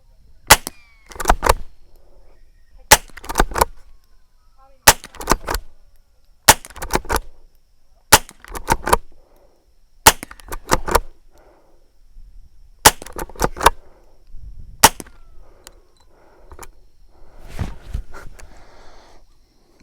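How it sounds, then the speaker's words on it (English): Repeated shots from a Derya TM22 lever-action rifle fired at cans 30 metres away, about ten sharp cracks at a steady two-second rhythm, with faint metallic clatter of the lever action between shots. "I've got some cans down there at 30 metres, and it's going to go and have a bit of fun"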